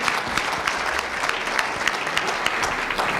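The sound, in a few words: applause for the session panelists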